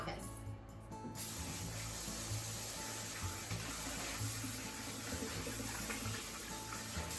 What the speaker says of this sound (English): Wash the noodles under running water really well by rubbing it against each other